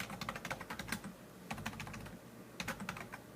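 Steady typing on a computer keyboard, fast clicking keystrokes in bursts with a brief lull, close and clear with no talking.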